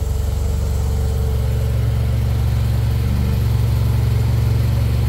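A Yamaha T-Max 560 scooter engine runs just after starting, a loud, steady, close-up low rumble with an even pulsing throb and no talk.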